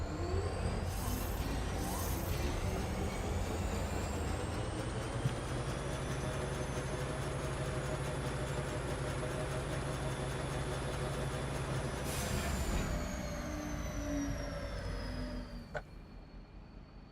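A train reversing in the factory-building video game Foundry, a steady loud mechanical rumble and hum with a high whine that runs almost throughout, then shifts and fades near the end.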